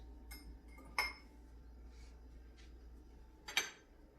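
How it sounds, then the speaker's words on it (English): Metal utensil clinking against a pot while cheeses are stirred into mac and cheese over the lowest heat, three sharp taps spaced apart over a quiet background. "And then we're gonna mix in our cheeses."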